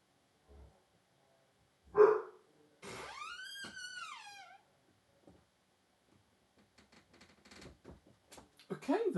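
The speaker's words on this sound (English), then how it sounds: "That is our ambient noise. The dog." A dog in the background gives one sharp bark followed by a long, rising and falling whine-like howl, in a quiet room, with faint rustling and a voice coming in afterward.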